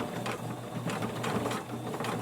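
Sewing machine stitching a pleated fabric face mask along the direction of the pleats, a steady mechanical whirr with repeated needle clatter, close and continuous with no talk.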